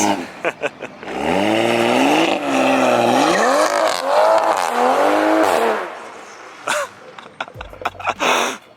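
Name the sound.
exhaust pops from tuned straight-piped Toyota Supra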